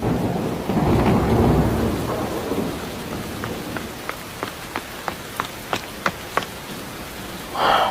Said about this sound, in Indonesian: Lebat banget hujannya.